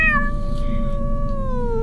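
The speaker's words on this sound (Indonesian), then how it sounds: "Malam itu kucing kenapa ya?" At night, a cat gives a single long, loud meow that slides slowly downward and carries through to the end over a steady low rumble of background noise.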